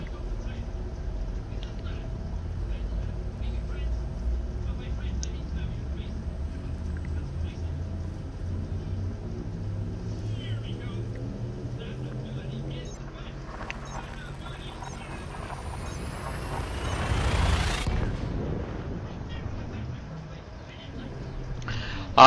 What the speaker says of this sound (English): Preparing for hyperspace travel.